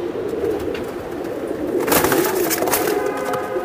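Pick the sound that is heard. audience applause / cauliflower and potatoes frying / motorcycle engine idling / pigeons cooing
pigeons cooing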